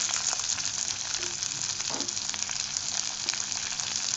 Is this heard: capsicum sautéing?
yes